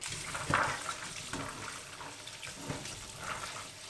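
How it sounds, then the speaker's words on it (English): Cold tap water runs into a sink as beans are rinsed, a steady splashing stream with intermittent louder splashes and clinks, fairly quiet and close. "And clean them with a lot of cold water."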